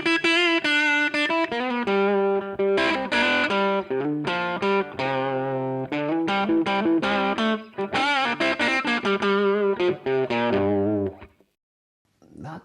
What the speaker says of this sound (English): it's that 2x12 British Marshall sort of style cabinet